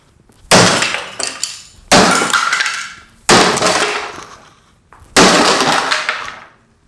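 Four loud, sharp glass-smashing impacts as an aircraft egress hammer breaks a window, each followed by a brief shower of tinkling shards, spaced a second or so apart, close by.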